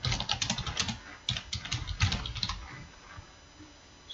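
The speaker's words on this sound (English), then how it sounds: "and type in the comment" Rapid, steady keystrokes on a computer keyboard as a comment is typed into an admin page for parcel tracking, close and clear with a brief pause midway and a quieter tail.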